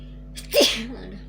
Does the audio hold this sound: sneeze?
yes